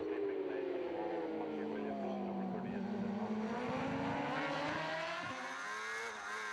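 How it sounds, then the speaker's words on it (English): Onboard a Kawasaki ZX-10RR racing motorcycle at the Tandragee 100 road race, the engine screams loud and close in rising and falling revs as it accelerates and shifts, with rushing wind throughout. "So this is on board with Magee. The ZX-10RR Kawasaki."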